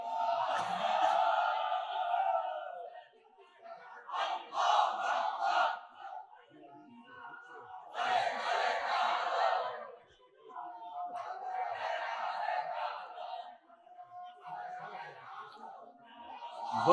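A crowd at a Bangla waz religious gathering roars a chanted takbir response in several loud, swelling waves, with pauses between the shouts.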